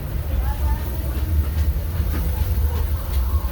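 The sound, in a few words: Disneyland Railroad train running on rails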